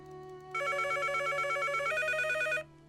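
Telephone ringing in a Nancy Drew video game: a steady electronic trill with a warbling two-tone pattern, loud and close, lasting about two seconds over a low background hum, with no talk.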